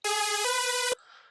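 Bright, buzzy hardstyle synth lead built in the free Flex plugin, two sustained notes with a pitch step midway, cut off abruptly and followed by a faint tail.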